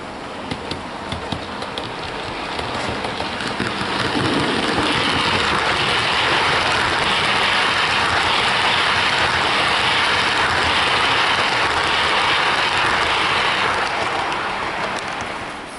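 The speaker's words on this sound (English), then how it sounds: "The coaches running on the layout." A Hornby model train, a Class 87 locomotive hauling Intercity Swallow Mark 3 coaches on a layout, gives a steady rushing rumble of wheels on track that holds at a constant level, with no speech.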